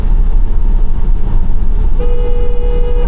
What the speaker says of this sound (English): honk at him